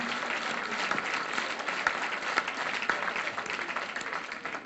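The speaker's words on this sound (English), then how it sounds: "a big applause and congratulations for the group of Agriculture and Rural Development" Steady, dense applause from a large audience at a graduation ceremony, continuous clapping held at an even level throughout with no gaps.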